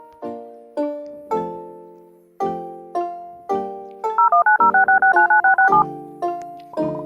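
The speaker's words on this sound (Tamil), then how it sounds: "யோகன் போய் ஃபோன் போட போயிருக்காரு." A series of crisp emergency telephone keypad tones in an airplane video game beeps out one by one, interrupted midway by a fast warbling burst, then more single beeps.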